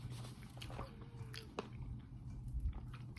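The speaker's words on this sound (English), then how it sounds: "I don't like to chew things that's really hard because of my teeth" Someone bites and chews a hard, crunchy healthy snack up close, with sharp crunches at irregular intervals over soft mouth sounds.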